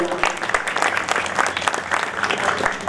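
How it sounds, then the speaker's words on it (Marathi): An audience claps steadily together for Meenakshi Tai at a Marathi gathering. The applause is dense and sustained throughout, near and fairly loud, with a faint murmur of the crowd beneath it. "एकदा मीनाक्षी ताईंकरता आपण टाळ्या वाजवू"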